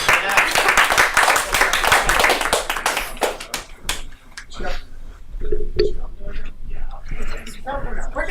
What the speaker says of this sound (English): Give a round of applause for Marie Sallert.